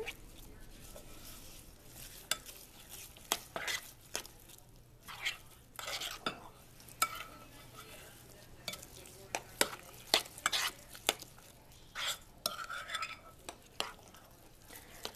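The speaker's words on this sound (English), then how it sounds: "I'm just going to keep stirring it up here." A spoon stirs a thick flax seed cracker mixture in a bowl, making steady soft scraping and tapping strokes at close range with no talking.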